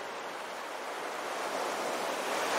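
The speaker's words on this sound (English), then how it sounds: "you can hear the waves crashing against the shore" Ocean surf on a Hawaiian shore, a steady wash of breaking waves that swells slightly louder toward the end, with no voices.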